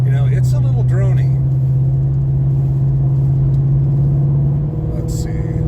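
Toyota Tundra CrewMax 1794 Edition pickup with a canopy and a Dirty Deeds straight-pipe exhaust, idling with a deep, steady, droning rumble close by, while people talk briefly over it.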